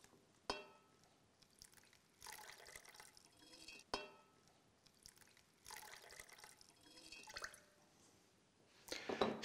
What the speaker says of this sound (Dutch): En vul deze cilinder met ongeveer 5 centimeter.